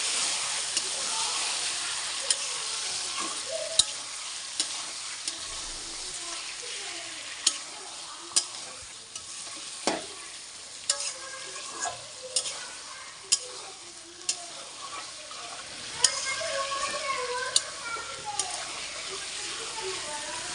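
Meat stirred into well-fried spice paste in a pan, with a steady close sizzle and repeated sharp clicks and scrapes of a spoon against the pan throughout.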